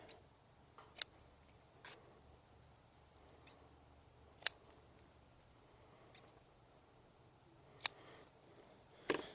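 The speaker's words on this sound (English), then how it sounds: "we're going to come in with just some scissors and cut off this excess" Sharp, isolated snips of scissors cutting excess butcher's twine on a pork loin, about eight over several seconds at an uneven pace, close and fairly quiet against a soft background.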